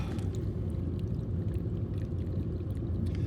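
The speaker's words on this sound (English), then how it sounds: "This thing is draining forever." Water drains slowly from a clogged kitchen sink through a long run of pipe, a steady, continuous rushing and gurgling flow close by with no voices.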